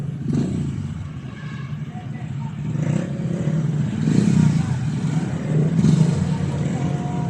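Friday rush-hour road traffic with cars and motorcycles, a steady close rumble of engines that swells and fades as vehicles pass, with occasional revving and rattling clatter.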